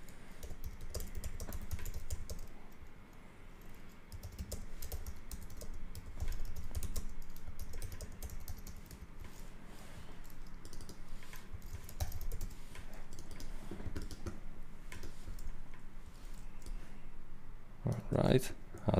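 Soft, rapid typing on a computer keyboard, with irregular bursts of light key clicks continuing at close range for the whole stretch, faint and steady under quiet room noise.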